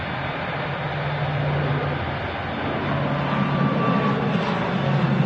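A Logan Air ATR 72 turboprop takes off at Manchester Airport, giving a steady, broad engine roar with a low droning hum that swells slightly as it climbs, heard from a distance.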